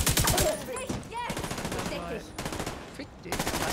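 Rapid automatic gunfire rattles in dense bursts during a cooperative PC session of The Division 2, with loud, close volleys broken by short pauses and faint voices in between.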